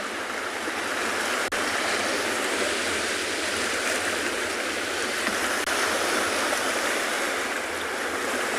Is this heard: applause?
no